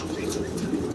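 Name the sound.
pigeons cooing at a pigeon market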